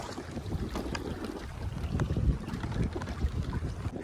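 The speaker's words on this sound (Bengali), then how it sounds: "বিশাল ঢেউ হচ্ছে" Big waves roll on a rough, swollen river, with choppy water sloshing and slapping near the microphone amid gusty wind buffeting; no voices.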